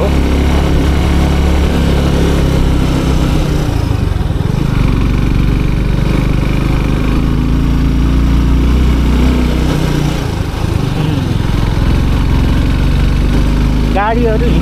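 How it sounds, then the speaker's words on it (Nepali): Motorcycle riding along a rough village road to a Gurung village in Nepal, with a steady engine drone and wind rumble running loud and continuous throughout, close to the rider. "यस्तो बाटोमा बाइक चलाउनु रमाइलो हुन्छ"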